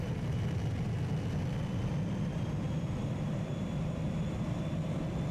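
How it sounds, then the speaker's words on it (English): An airplane roars overhead in PowerWash Simulator, a steady, loud low engine rumble that holds evenly throughout with no talk. "It's a plane."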